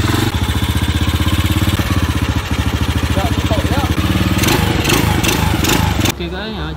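A Honda EX5 motorcycle with a Spec 55 engine runs steadily and loudly close by while its carburetor is tuned, its rapid even putter shifting pitch near the end before cutting back.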